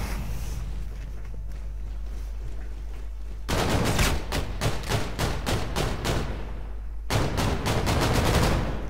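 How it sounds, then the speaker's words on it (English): SMG fire in the Call of Duty: Infinite Warfare multiplayer game, two loud rapid bursts of close shots, each lasting a few seconds, over a steady low background rumble. "That SMG fires two shots at a time, so it can one-shot you"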